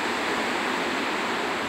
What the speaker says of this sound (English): that is the ocean, so I'm on the ocean